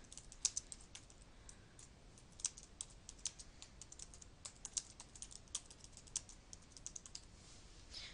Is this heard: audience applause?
no